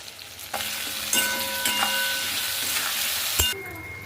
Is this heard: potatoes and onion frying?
yes